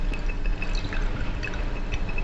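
Acid poured into a laboratory beaker, a close continuous liquid trickle with light dripping and faint glassy splashes, heard alone.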